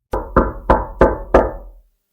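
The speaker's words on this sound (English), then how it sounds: "Someone was banging on Hans's door." Someone bangs on a wooden door on a stormy night, five heavy evenly spaced knocks, loud and close, with nothing else heard.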